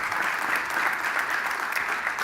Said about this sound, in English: Another round of applause to the experts